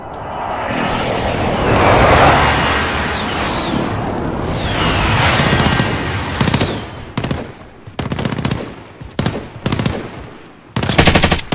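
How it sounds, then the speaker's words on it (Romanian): A friendly precision airstrike in Call of Duty: Modern Warfare (2019) brings a loud, swelling roar of jet aircraft passing overhead, followed by sharp, repeated bursts of heavy gunfire in a battle. "Be advised, friendly precision airstrike inbound."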